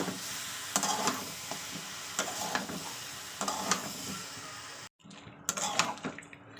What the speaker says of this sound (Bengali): তো অল্প একটু জল দিয়েছি দিয়ে আমি ভালো কষে নিলাম